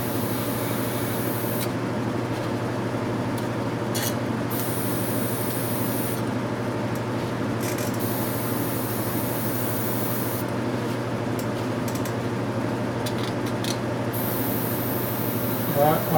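An airbrush sprays paint onto a miniature with a steady, close hiss of air. It starts and stops in several short bursts over a constant background hum, and someone talks quietly under it.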